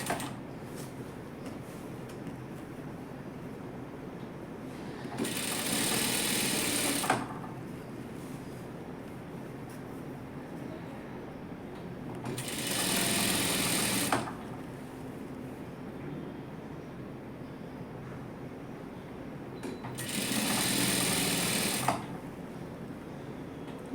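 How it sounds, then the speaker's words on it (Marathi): A sewing machine stitches a neckline seam in three separate runs of a few seconds each, a steady mechanical whirring that starts and stops abruptly with quieter gaps between, close by and with no talking. "तेवढं शिवून घ्यायचं"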